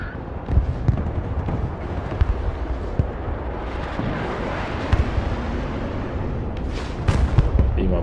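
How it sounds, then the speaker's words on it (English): MLRS rocket artillery firing in the game Broken Arrow: a continuous roaring rumble with repeated thumping launches and rushing noise, loud and sustained across the whole stretch. "MLRS ready to fire. Target marked, direct fire."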